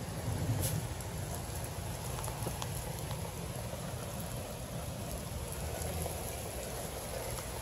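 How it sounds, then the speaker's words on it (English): Steady, dense storm rain hissing and pattering on surfaces outdoors amid 60 mph winds and hail, a constant wash of sound with no voices. "It is a crazy storm out there."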